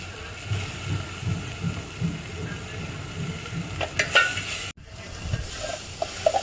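Tomatoes fry in a hot pan over a wood-fired clay stove for spiced potato rice. A close, continuous sizzle runs under rhythmic stirring, with a brief metallic clatter and a short dropout near the end.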